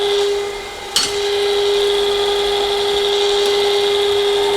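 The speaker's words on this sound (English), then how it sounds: "Okay, the last one going in here for drilling." Drilling the final hole in a Wright roller kit, a continuous high-pitched drill whine held steadily for several seconds, with a brief clunk near the start as the bit engages.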